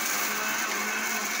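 A kitchen mixer grinder whirs steadily for the whole moment, loud and close with a bright, dense motor hum and no talking over it.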